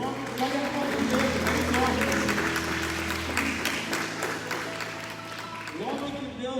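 Church congregation applauds in a steady wash of clapping that tapers off, mixed with a lingering musical tone and a speaker talking over it.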